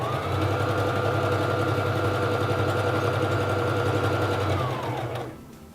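A Singer Fashion Mate 3333 sewing machine runs a narrow zigzag stitch at a longer stitch length, a steady close whirring hum with rapid needle rhythm for about five seconds before winding down, with no talking.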